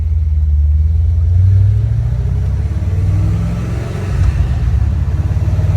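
A stock Corvette with a manual transmission idles and revs nearby, a steady loud low rumble that rises and falls in pitch with a few engine swells.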